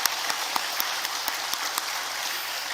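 A church congregation claps hands together during a Sunday Easter worship service, a dense, steady patter of many hands with a few sharper claps standing out.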